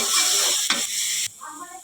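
Ingredients sizzle in a hot frying pan, a loud continuous hiss that briefly shifts with stirring, then drops abruptly to a quieter crackle near the end.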